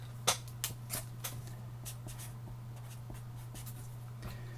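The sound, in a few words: writing box dimensions with a pen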